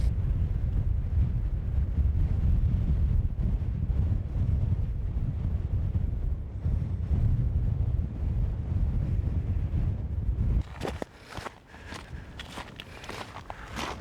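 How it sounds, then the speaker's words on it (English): Strong wind roars across a mountain ridge on An Socach near Braemar, a heavy constant buffeting that fills the sound before easing near the end into gustier noise with footsteps. "It is quite windy at the moment"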